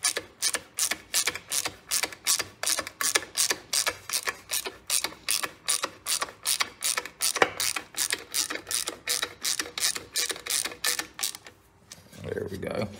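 A ratchet clicks in fast, regular bursts while screwing a part into an old engine under restoration, close and loud, then stops, followed by a brief rustle.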